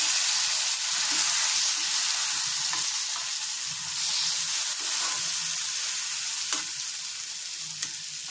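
Poppy seed masala frying in a pan with tomato and green chillies, giving a steady soft sizzle throughout with a few light stirring clicks, close and moderately quiet.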